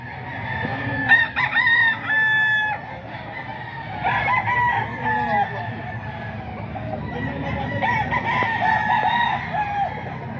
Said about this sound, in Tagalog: Manok tulat ni Buslando naman nakahilira na ito mga idol